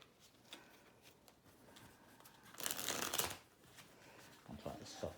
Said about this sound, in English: I'm trying to shuffle this up.